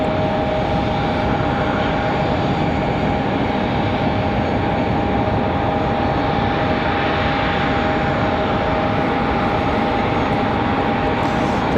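Avelo Airlines airliner at Raleigh-Durham International Airport, a loud, sustained jet engine roar with a steady whine riding on it, constant and close for the whole stretch, no one speaking.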